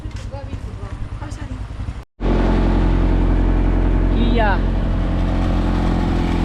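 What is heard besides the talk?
engine of a tramline vehicle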